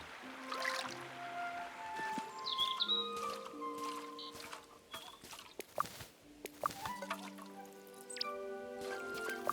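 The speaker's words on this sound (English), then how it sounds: "Need to refill my water can." Water trickles and drips while a watering can is refilled in Tales of the Shire, set against light chiming game music with scattered bright plinks and splashes, fairly soft and layered over the melody.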